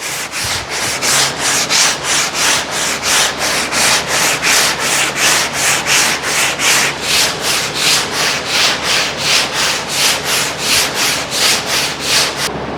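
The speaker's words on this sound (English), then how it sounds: "Just using 80 grit on this big kid block." Hand sanding of polyester primer with an 80 grit sanding block: steady rhythmic back-and-forth rasping strokes, about two per second, loud and close with no voices.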